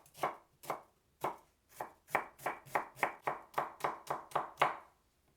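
A knife chops a carrot into small cubes on a board in about fourteen crisp close thuds, spaced out at first and then quickening into a steady even rhythm, with no talking.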